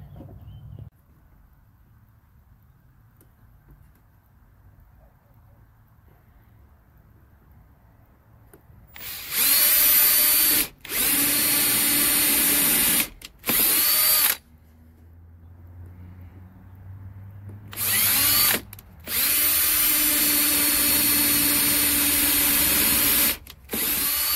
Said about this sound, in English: That will be our 3 pilot holes that we will drill.